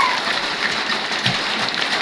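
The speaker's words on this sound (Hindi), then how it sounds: "अब देखिए बारिश कितनी तेज़ आ रही है" Heavy rain pours steadily onto surfaces in a broad, even hiss of dense drops, close and continuous with no one speaking.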